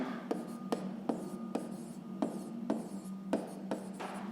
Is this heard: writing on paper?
yes